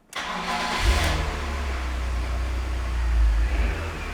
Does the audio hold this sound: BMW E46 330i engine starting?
yes